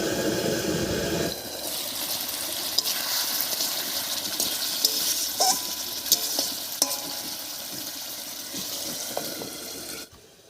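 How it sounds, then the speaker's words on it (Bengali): Fish curry masala with potatoes cooking in a pan, sizzling steadily with scraping stir strokes and a few sharp clinks throughout, close and moderately loud, ending abruptly. "মাঝে মাঝে ঢাকা খুলে একটু নাড়াচাড়া করে দেবো"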